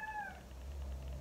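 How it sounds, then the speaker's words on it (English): A house cat gives a single short, clear meow close by, followed by a low background hum. "My cat's got a lot to say."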